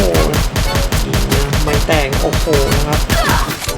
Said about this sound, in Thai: มีคนยิงกันยิงยิงยิงยิงครับ